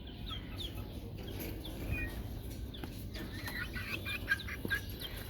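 Backyard chickens clucking and pecking nearby, with soft repeated clucks and occasional sharper calls over a steady low rustling background, no talking.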